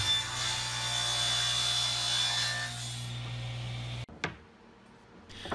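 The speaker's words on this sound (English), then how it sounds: "here I am ripping down some of the material for the fence. I've used Baltic birch plywood for that." A table saw rips a sheet of Baltic birch plywood, a steady loud cutting whine with low motor hum running about four seconds, then cutting off abruptly into spin-down and a few brief knocks.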